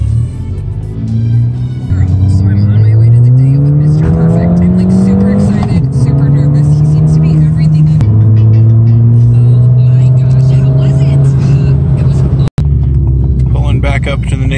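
A Ford Fiesta ST engine accelerating hard under turbo boost, its loud, close drone climbing steadily in pitch through several gear changes with brief dips between pulls.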